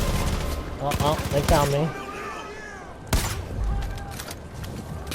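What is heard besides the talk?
gunfire in video game Far Cry 5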